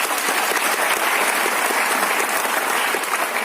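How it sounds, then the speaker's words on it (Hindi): Steady applause from a seated group at a Smart Value LEAD-24 program event in Delhi, honoring a member's platinum achiever award; dense, even clapping that continues unbroken for a few seconds with no talking. "तालियां कंचन जी के अचीवमेंट के लिए।"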